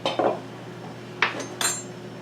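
A metal teaspoon clinks against dishes while homemade vanilla extract is measured out in a kitchen, giving a few light, close, separate chinks over a quiet background with no talking.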